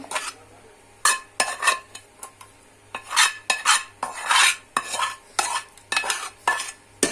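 Aloo carrot curry being spooned from a pan into a rice cooker: repeated close metal scrapes and clinks of a spoon against the pan in irregular bursts, with a faint background hum and no talk.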